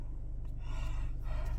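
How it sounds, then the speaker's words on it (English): A person yawns in one long, breathy, drawn-out exhale, close and fairly quiet over a low steady hum. "Sorry, they're making me yawn."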